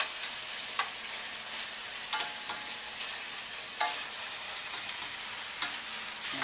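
Onions and garlic sweat gently in olive oil with a soft, steady sizzle, and a spoon scrapes the pan in occasional strokes, close and fairly quiet, with no talking.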